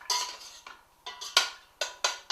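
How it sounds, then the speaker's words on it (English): Leeks and butter are stirred in a soup pot, with about five or six close, distinct scraping and clattering strokes of a utensil against the pot in an uneven rhythm. "Now give it a good stir so that all the butter"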